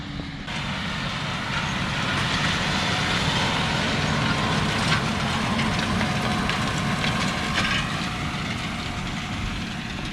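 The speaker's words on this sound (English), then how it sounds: "we have a guy here with a Salford vertical tillage tool, just smoothing it out a little bit" A tractor pulls a Salford vertical tillage tool across a planting field, a constant engine drone with broad rumble and machinery noise lasting throughout, steady and fairly close.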